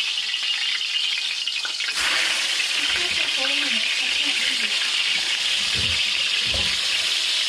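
Trout caught at Ochoco Reservoir sizzles in a frying pan as a spatula turns it over, steady frying hiss throughout with a few soft scrapes and clanks of the spatula against the pan.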